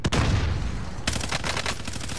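Rapid gunfire in the Call of Duty Warzone video game, a burst of repeated loud shots and rattling automatic fire that continues steadily through the moment, with no voices over it.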